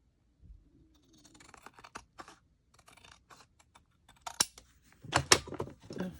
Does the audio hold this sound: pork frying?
no